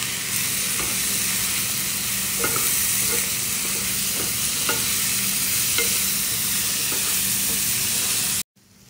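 An onion, raisin and chickpea stuffing seasoned with salt, cumin and black pepper fries in a pan for Omani qabuli rice, a steady loud sizzle with soft scrapes from regular stirring, ending abruptly.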